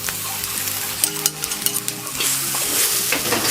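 Egg fried rice being stirred and mashed in a pan over low heat, steady sizzling under repeated scraping strokes of the utensil, close and fairly loud throughout.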